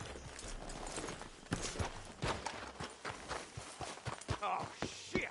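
Horse hooves clip-clop in a Red Dead Redemption 2 game scene, with irregular close steps and thuds as the horses come to a stop, mixed with faint game ambience and a few voices.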